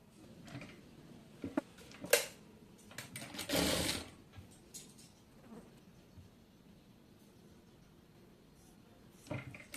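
Sewing machine stitching piping onto a kameez front neck design, a few short buzzing bursts with one longer run in the middle, separated by quiet handling noises and clicks.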